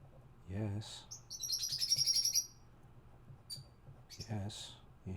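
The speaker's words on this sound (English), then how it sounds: "You hear the birds?" Small birds chirp in a quick bright burst of rapid tweets, fairly faint and brief, between stretches of nearby conversation.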